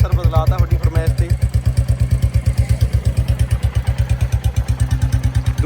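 A Royal Enfield Bullet motorcycle with a modified silencer idles close by, its loud, even thumping exhaust beats repeating rapidly and steadily with some mechanical clatter over the top.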